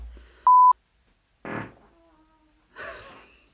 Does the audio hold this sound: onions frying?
no